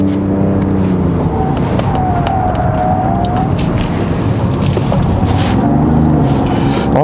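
A 2021 Genesis GV80 3.0 diesel AWD accelerates through a corner on a winding road, its engine a loud continuous drone heard from inside the cabin, with a short rising tone partway through.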